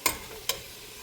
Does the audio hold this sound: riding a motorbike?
no